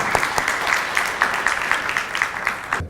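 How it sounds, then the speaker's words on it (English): An audience applauds to welcome a speaker at a wealth-planning talk in India, with dense, steady clapping from many hands and sharper individual claps standing out, lasting about three seconds before cutting off. "please help me welcome with thunderous round of applause"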